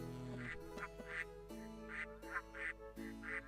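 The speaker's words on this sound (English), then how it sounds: "Fantail duck." A fantail duck in the game Baten Kaitos quacks repeatedly in quick bursts, about eight nasal calls over steady background music and a low hum.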